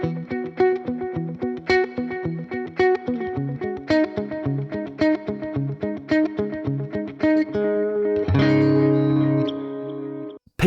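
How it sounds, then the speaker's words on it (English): Electric guitar playing a rhythmic riff through a ping-pong stereo delay pedal, echoes bouncing side to side, ending on a sustained ringing chord; processed, spacious tone with no voices. "Ping pong mode is really great if you want to separate your guitar"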